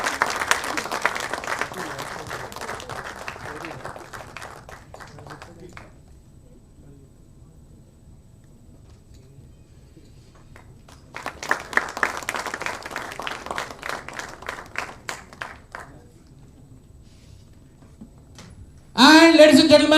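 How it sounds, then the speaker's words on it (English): An audience at a corporate quiz semi-final applauds a runner-up in two loud bursts of clapping separated by a quiet stretch, with voices rising sharply at the end. "please give him a big round of applause"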